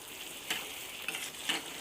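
Chicken in masala is stirred in a wok over a soft frying sizzle, with three scrapes or clinks of the spoon at roughly even intervals. The sound is quiet and no one speaks.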